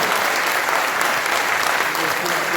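Audience applause at an all-India mushaira, a dense, loud, sustained clapping from a large crowd with no pauses.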